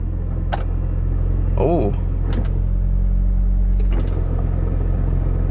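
A Mitsubishi Lancer Evo engine idling after starting, a loud steady low rumble close by, with someone speaking briefly over it and some clicks and handling noises.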